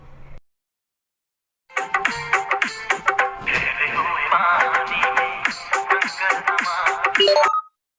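After a short silence, a telephone ringtone plays loudly and continuously, a bright electronic melody of quick repeating notes lasting several seconds.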